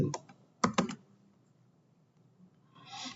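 Computer keyboard typing while filling in an online registration form for a Co-ordinated Care Pilot: a quick burst of close, crisp key clicks near the start, then near silence with faint room hiss toward the end.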